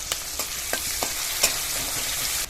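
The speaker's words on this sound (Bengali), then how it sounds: "বাটারটা গলে গেছে, 2টো মিডিয়াম সাইজের পেঁয়াজ কুচি দিয়ে দেবো।" Chopped onions fry in melted butter for butter chicken, with a steady bright sizzle and several soft scraping stirs at regular intervals, close up and with no voices.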